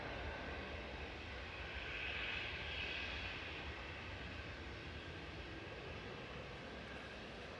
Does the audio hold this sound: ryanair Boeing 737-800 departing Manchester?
yes